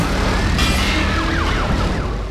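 A police car siren wails in NFS World, its sweeping up-and-down tones riding over loud, dense engine and road roar, with no talking.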